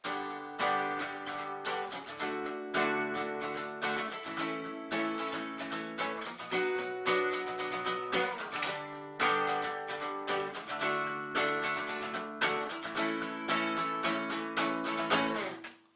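An acoustic guitar strums full bar chords of a song's chorus in a steady rhythm, with repeated chord changes and crisp strokes ringing out.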